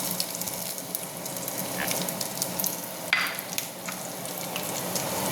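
Garlic sizzles in a hot pan while cooking pork in fish sauce with tomato and onion, a steady close frying hiss with occasional stirring scrapes and spatters.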